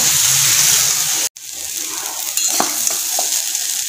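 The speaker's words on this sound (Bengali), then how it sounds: "এই দেখো আমার আলু ফুলকপি ভাজা প্রায় হয়ে এসছে" Potatoes and cauliflower fry in a pan with a steady broadband sizzle, broken by a brief silent gap, then scraped and stirred with a few sharp utensil knocks.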